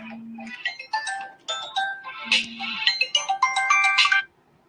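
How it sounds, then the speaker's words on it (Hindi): A phone rings with an incoming call, playing a melodic electronic ringtone of bright repeating notes for several seconds, loud and close, then stopping. "एक मिनट रुकिए जरा, एक अर्जेंट फोन आ रहा है"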